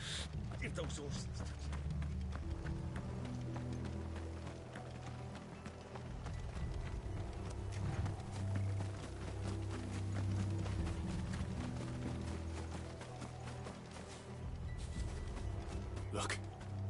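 Horse hooves clip-clop in the video game Final Fantasy XVI, a rhythmic run of hoofbeats under a low rumbling score and scattered effects, fairly quiet overall.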